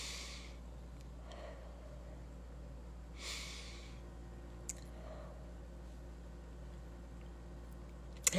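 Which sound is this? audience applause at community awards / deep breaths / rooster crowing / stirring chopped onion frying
deep breaths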